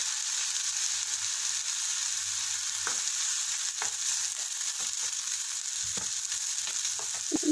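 Capsicum sizzles in a pan with a splash of soy sauce, a steady bright hiss holding throughout, broken by a few soft utensil taps and scrapes toward the end.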